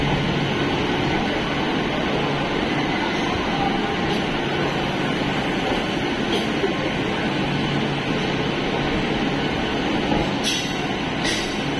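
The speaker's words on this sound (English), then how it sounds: "On board 38423 Howrah Panskura EMU Local." Howrah Panskura EMU local train running on Indian Railways after departing Howrah station, heard from on board as a steady, loud rumble and rattle of carriages, with a few brief higher clicks near the end.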